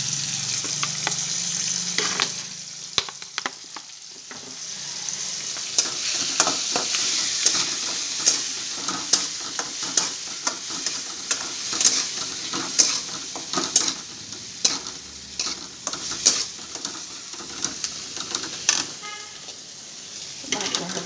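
Coriander and black masala frying in hot oil, a continuous sizzle broken by frequent sharp scrapes and clicks of a spoon stirring in the pan, close and moderately loud.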